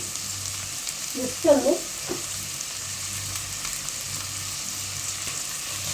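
Sliced onions with salt frying in a pan, a soft steady sizzle with a brief stirring scrape near the middle, while a voice says a few words.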